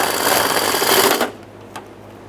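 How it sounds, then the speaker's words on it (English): A fast mechanical whirring rattle, likely a power driver running in a 10mm headed mounting bolt on the fuel tank shield of a 2013-2020 Ford Fusion 2.0L, lasting just over a second before cutting off to a quiet hum. "Install your 10mm headed mounting bolt."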